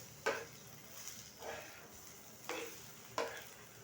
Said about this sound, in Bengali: আর দিয়ে দিব তেল। দিয়ে নেড়ে চেড়ে নিয়ে